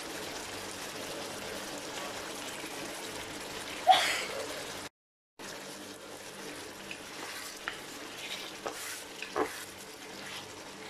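Sugar is stirred in a pan while cooking binagoongan, giving a steady sizzling, trickling hiss with occasional scraping clinks. A brief silent gap falls midway before the sizzle resumes.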